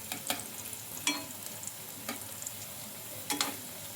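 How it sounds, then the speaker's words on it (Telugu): Pieces fried in a kadai and turned from side to side, giving a steady low sizzle with a few sharp clicks and scrapes as they are flipped, close and fairly quiet. "ఇంకా అటు ఇటు తిప్పుకుంటూ బాగా ఫ్రై చేసుకున్నానండి 2 వైపులా"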